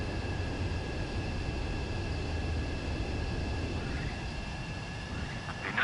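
Fighter jet engine in the Ace Combat 7 video game, a steady broadband roar with faint high whine, continuous and moderately loud throughout with no talk.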